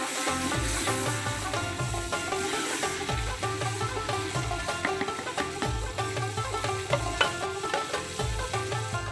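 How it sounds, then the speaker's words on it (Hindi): Onion, tomato, garlic and ginger frying in a pan for a beef katwa, a close, steady sizzle punctuated by rhythmic scraping and clattering strokes of a spoon against the pan, with no talking. "इस तरीके से हम प्याज टमाटर लहसुन अदरक की भुनाई कर लेंगे तकरीबन 2 से 3 मिनट के लिए"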